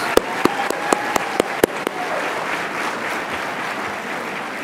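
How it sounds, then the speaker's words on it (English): Audience applause at an annual university employee awards program, led by a few sharp, close hand claps in a rhythmic run before settling into steady, softer crowd clapping. "Let's give another round of applause for our 20-year winners."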